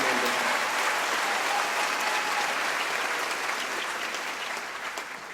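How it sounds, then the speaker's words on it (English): Commencement audience at SUNY Schenectady applauding the faculty, administrators and staff, a loud, dense, sustained clapping from a large crowd that gradually thins and fades near the end. "How about a big round of applause for the faculty, administrators, and staff"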